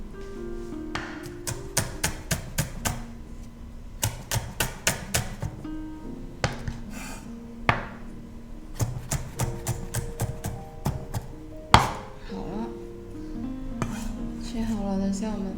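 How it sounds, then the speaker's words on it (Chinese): A knife chops a garlic clove and a scallion on a board in quick bursts of crisp, close taps separated by short pauses, with a louder knock near the end. "将它切碎。"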